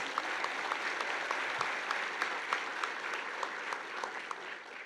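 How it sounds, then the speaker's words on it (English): Audience at a college honors ceremony gives student athletes a round of applause: sustained, even clapping from a large crowd, heard at a moderate distance with no speech over it. "Let's give our student athletes another round of applause."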